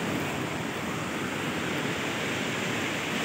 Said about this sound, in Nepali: यसलाई हेर्न पुरै झरना छ यार